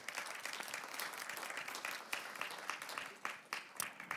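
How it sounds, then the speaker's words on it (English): An audience at a European Capitals of Small Retail award ceremony applauds the moderator, a dense, even wash of many hands clapping in a large room, sustained for several seconds with a few louder claps near the end. "Warm applause for our moderator."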